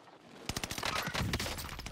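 Gunfire in the video game Warzone, a rapid burst of sharp, fairly close shots starting after a brief quiet, rattling on at an uneven automatic rhythm with no talk.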